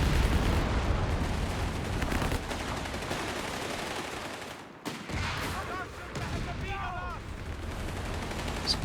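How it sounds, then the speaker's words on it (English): Rapid gunfire from a Company of Heroes 3 battle, sharp shots and bursts layered over a dense, continuous din of combat noise, with sniper shots in the mix. "Sniper able to get quite a few nice shots off here."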